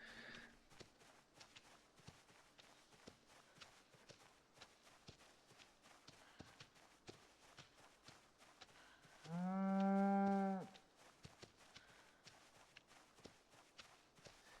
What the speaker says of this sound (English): we do have a milk cow